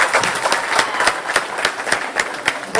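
Audience clapping at a Tonate campaign rally for Monique Coser, a dense steady patter of many hands with sharp individual claps popping through, moderately close, continuing throughout without a break.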